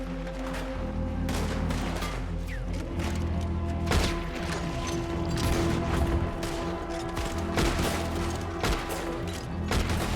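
Gunfire in Red Dead Redemption 2, repeated sharp shots and bursts cracking through a busy battle soundscape with mechanical clatter, moderately loud and continuous throughout.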